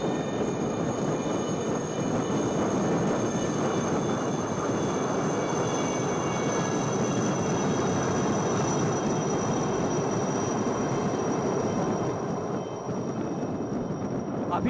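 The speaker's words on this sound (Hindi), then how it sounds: "6 Chetak helicopters from the 3-1 flight in a diamond formation" Six Chetak helicopters fly past in diamond formation during an Indian Navy review, a loud, steady broadband engine and rotor roar that stays constant throughout.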